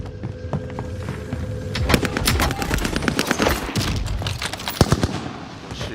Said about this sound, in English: Yeah, that's me shooting them.